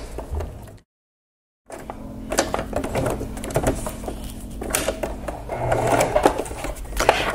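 A sewing machine runs steadily, stitching a seam on a fabric apron, with a brief pause partway through before the continuous mechanical whir resumes up close and at moderate loudness.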